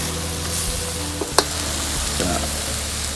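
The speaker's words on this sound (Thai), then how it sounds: "นี่ผัดเผ็ดปลาไหลแล้ววันนี้" Spicy eel stir-fries in a hot pan with a constant loud sizzle, broken by a sharp scrape or clatter of the spatula midway and a few softer stirring sounds.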